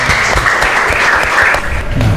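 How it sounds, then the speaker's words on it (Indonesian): Classroom of students clapping during a science lesson, a short loud patter of hands, close and steady for about two seconds. "Tepuk tangan untuk kalian semua."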